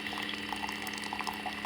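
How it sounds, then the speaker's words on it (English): A Keurig machine streams hot water into a cup holding hot chocolate mix, giving a steady, bubbling, gurgling pour at moderate level throughout, with no talking. "Right now, the Keurig is adding water to the cup to make the hot chocolate."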